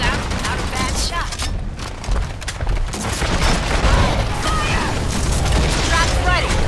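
Gunfire in the Evolve video game, dense bursts of rapid shots and booms that keep going under loud, continuous game noise and voices.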